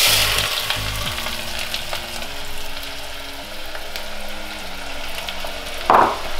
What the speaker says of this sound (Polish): Wpierw do rozgrzanego oleju wrzucamy jedną poszatkowaną cebulę.